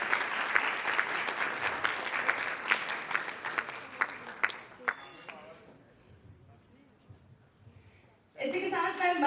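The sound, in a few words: audience applause at a theatre event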